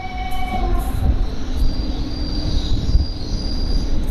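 Kasganj–New Delhi Intercity Express train braking to a halt at a station, steel wheels squealing in high sustained tones over a heavy rumbling roar, close and loud.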